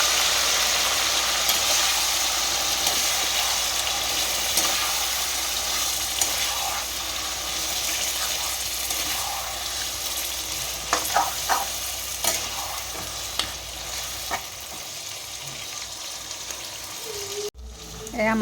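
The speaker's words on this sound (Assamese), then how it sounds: "এয়া মাটনখিনি ভালকৈ ভজা হৈ গ'ল" Marinated mutton fries with onions and potatoes in a pan, making a steady crackling sizzle with scraping spatula stirs and a few sharper clacks, while a voice murmurs faintly in the background.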